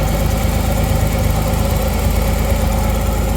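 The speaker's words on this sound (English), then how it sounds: "just so you can hear the motor running up close." A 1986 Pontiac Fiero GT engine idles up close, a loud, steady, even rumble with a dense low throb and no variation in pace, with no voices over it.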